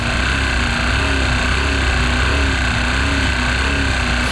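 A car engine run for around fifteen minutes with no oil screams at full revs, a loud, constant, rough drone with a metallic buzzing whine layered through it, steady and close throughout with no voices.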